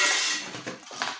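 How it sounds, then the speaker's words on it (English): Metal cake pans in assorted shapes and sizes being handled in a kitchen, giving a few soft clanks and scrapes that fade over about a second, close by with no talk. "We have cake pans. Our cake pans come in different shapes and sizes."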